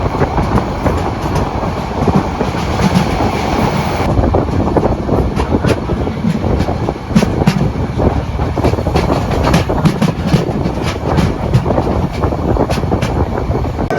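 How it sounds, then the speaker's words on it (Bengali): Cox's Bazar Express running on rails from Dhaka's Kamalapur station toward Cox's Bazar, heard from on board as a loud, continuous roar with rapid clickety-clack and rattling carriages, without talk. "কক্সবাজার এক্সপ্রেস ট্রেনটি প্রতিদিন রাত 11টায় কমলাপুর রেলওয়ে স্টেশন থেকে কক্সবাজারের উদ্দেশ্যে ছেড়ে যায়।"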